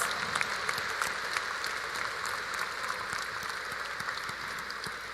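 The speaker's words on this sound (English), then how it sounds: "Let us all give our new lawyers a warm round of applause." A large arena crowd applauds newly sworn-in lawyers at a bar oath-taking ceremony, a continuous, fairly distant hiss of many hands clapping with a few sharper nearby claps standing out.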